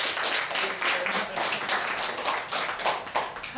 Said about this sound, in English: Let's give Andy a round of applause.